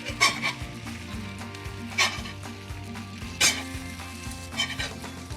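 Pancakes sizzle on a griddle with syrup cooking in, a steady close frying hiss with occasional scraping and clinking of a utensil against the pan, no voices.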